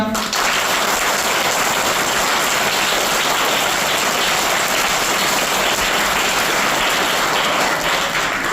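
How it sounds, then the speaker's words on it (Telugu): Loud, sustained clapping from a school audience at a Children's Day celebration fills the whole stretch as a dense, even roar with no pauses. "అలాంటి వాళ్ళందరికీ ఒకసారి చప్పట్లు కొట్టండి గట్టిగా"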